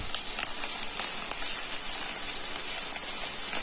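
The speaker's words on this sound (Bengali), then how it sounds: "রসুনটাকে একটু ভেজে নেব।" A spoonful of garlic paste fries in oil in a kadai, giving a steady bright hiss that holds evenly throughout, close and fairly loud.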